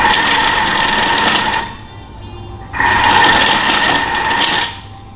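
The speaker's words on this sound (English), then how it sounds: "we're just going to keep on turboing the mixture until it's got a nice coarse grind" Food processor grinding meat to a coarse texture on turbo mode, two loud close whirring bursts of motor noise with a short pause between them and no talk.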